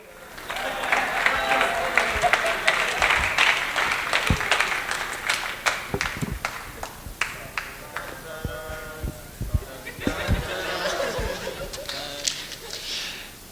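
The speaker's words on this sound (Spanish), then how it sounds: "Un aplauso para Jesús, por favor." A church congregation claps for a man at a service, a swelling round of applause mixed with laughter and chuckles, rising and fading in waves under scattered voices.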